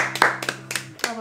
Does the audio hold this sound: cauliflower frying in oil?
no